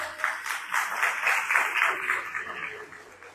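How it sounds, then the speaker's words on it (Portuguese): Applause from a church congregation, a dense steady patter of many hands clapping at moderate distance for a few seconds, with no voices over it. "Aplauda Jesus pela vida delas."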